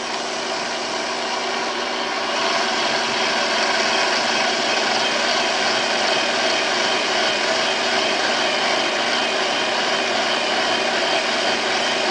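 A power drill whirs continuously at a steady pitch while drilling a hole with a 1/4 inch bit, getting slightly louder after a couple of seconds and holding constant without pause.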